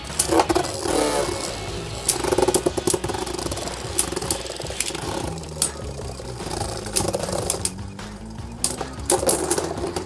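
Beyblade Burst GT spinning tops battle in a stadium, giving a continuous whirring, grinding scrape broken by sharp clacks as they collide and bang into the stadium wall, close and fairly loud.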